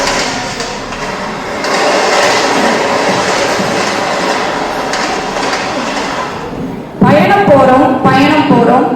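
Busy railway station with a train rumbling and clattering steadily throughout, loud and close, with people talking over it and a sharper metallic screech near the end.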